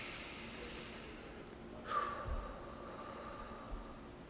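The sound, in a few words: deep breath in and out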